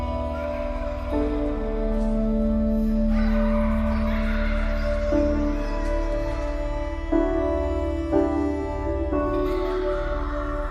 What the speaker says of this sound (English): You can hear the seagulls going off in the background